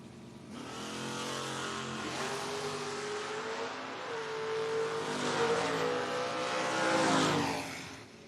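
Footbrake drag race cars, a Mustang and a Monty, launch down the strip together, a loud engine roar that swells, holds a rising pitch and then fades away, heard from a distance with no commentary over it.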